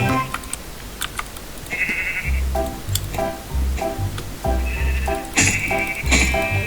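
Minecraft sheep bleat in short nasal calls over dense rapid keyboard typing, with low thumps and game clicks mixed in.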